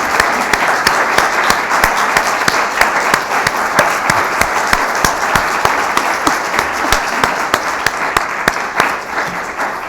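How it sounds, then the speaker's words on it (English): An audience at a Mashpee Select Board candidate forum applauds the candidates, giving loud, sustained clapping from many hands close by, with the crowd's clapping steady throughout. "it's time for all of us to applaud the candidates"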